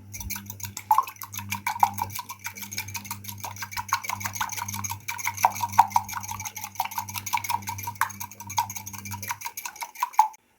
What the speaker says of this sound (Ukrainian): додаю цю яєчну суміш до них. Вимішую.